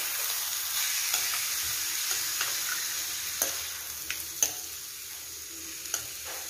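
Potato stir-fry with mustard seeds, urad dal and chilies being stirred in a pan, a steady soft sizzle broken by scattered light scrapes and clicks of the spoon against the pan.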